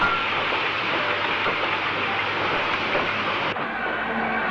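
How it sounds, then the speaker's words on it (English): WD 2-8-0 steam locomotive 90315 restarts from the centre roads at a 1960s station with an iron ore freight train, a loud continuous rushing hiss and rumble with faint rhythmic rail clatter throughout. "Banbury's WD280 90315 gets the signal to restart from the centre roads with a freight including iron ore again."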